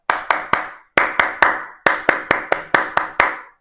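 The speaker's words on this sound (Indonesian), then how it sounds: "Tepuk tangan yang berpola ya, contohnya seperti tepuk pramuka." Rhythmic Pramuka scout clapping, with sharp close hand claps grouped into a patterned sequence of bursts separated by short pauses.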